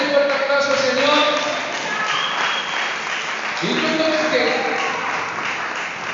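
Church congregation clapping for the Lord, a sustained wash of applause mixed with voices and a brief spoken word, steady and fairly loud throughout.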